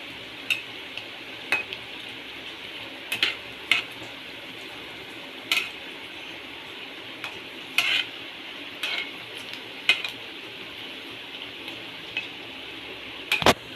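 Banana flower vadai frying in hot oil, bubbling with a continuous close sizzle broken by sharp metallic clinks and taps of a ladle or slotted spoon every second or so.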